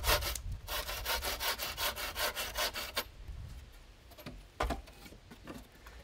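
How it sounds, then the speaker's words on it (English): A hand saw cuts through wood clamped in a cleaving brake used as a sawing horse, with quick regular rasping strokes for about three seconds, then a pause and a few slower, isolated strokes, close and clear. "I'll clean that end up and use the cleaving break as a sawing horse now."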